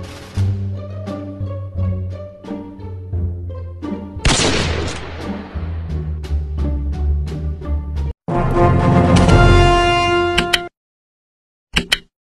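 Gunshots in the mobile horror game Scary Neighbor 3D, a few sharp bangs among eerie game music and effects, one noisy blast standing out midway before an abrupt drop to silence.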